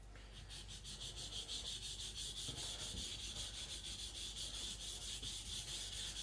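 A knife is thinned and sharpened on a stone in steady, rapid back-and-forth strokes, a close, continuous gritty rasp over a low background hum.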